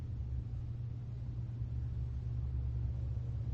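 Steady low road rumble of cars passing at a distance, a continuous dull drone holding evenly throughout with no voices.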